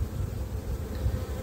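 Honeybees buzzing inside a hive with capped brood, a steady low dense hum, close and continuous throughout.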